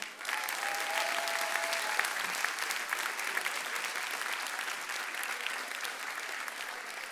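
Audience at a church sermon applauding: steady, dense clapping from a large crowd, sustained and even from start to finish, with no speech over it.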